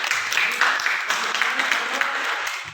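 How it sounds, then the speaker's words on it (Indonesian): An audience at a talk on faithfulness gives a round of clapping. The dense, steady applause runs for a few seconds at moderate loudness, with a voice faintly mixed in. "Mari kita beri tepuk tangan dulu"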